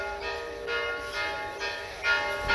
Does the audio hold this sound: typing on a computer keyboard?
no